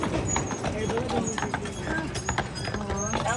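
Belgian and Percheron carriage horses on Mackinac Island clip-clop in a steady, fairly close rhythm while people talk over the hoofbeats.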